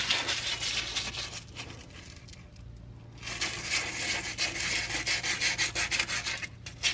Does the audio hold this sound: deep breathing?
no